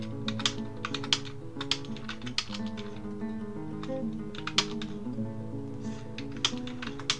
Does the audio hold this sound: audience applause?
no